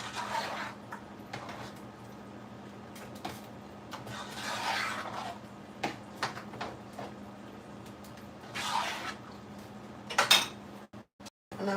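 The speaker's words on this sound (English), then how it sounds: "I'm going to give that a good stir" A spoon stirring a simmering pot in a home kitchen, soft scraping and occasional clinks of metal against the pan, close, over a steady low hum with no talk.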